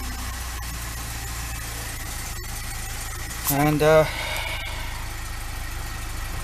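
A Lada 2102 engine idles steadily right after its first start-up, with the choke partly engaged. It rises in a brief rev midway, and someone talks over it.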